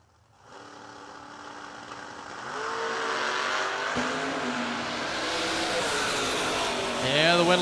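A drag race run between a Nova and a Corvette Roadster race car, engines roaring and rising in pitch as they accelerate, loud and sustained with upshifts and a commentator talking over the noise.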